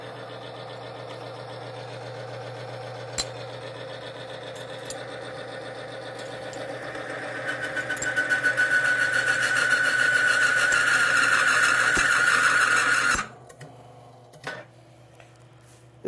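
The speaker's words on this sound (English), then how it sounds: "I'm going to turn the machine back on." A Timken bearing test machine runs loud and steady as it is loaded with weights to test Thixogrease, its whine climbing in pitch and intensity over several seconds before it cuts off abruptly, leaving a quiet room with a few faint knocks.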